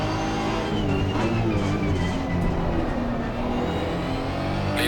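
A Honda NSX EVO race car in Assetto Corsa Competizione at Laguna Seca drones steadily at high revs, its engine a loud, continuous whine with shifting pitch and no talk over it.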